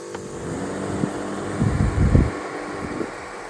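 A Ryobi misting fan runs on high with a steady close airy whoosh, plus low rumbling buffets of wind noise against the microphone around the middle.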